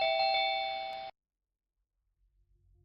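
A Ring Battery Video Doorbell's indoor chime gives a single bright ding-dong tone that rings for about a second and then cuts off abruptly, followed by silence and faint room noise.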